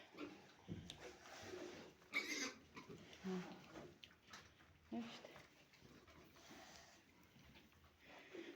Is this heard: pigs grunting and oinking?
yes